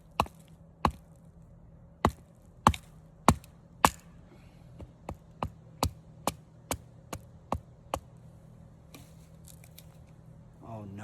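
A Ronin Shinto knife batoning through wood to split it, giving about a dozen sharp, evenly spaced knocks, loud at first and then somewhat softer, near and alone against a low hum.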